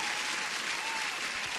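An applause sound effect plays as a steady wash of crowd clapping at moderate loudness, continuous and unbroken from start to finish.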